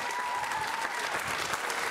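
Audience applause at the Téléthon 2017 talent show, a dense, steady wash of clapping from a full hall that holds at an even level from start to finish.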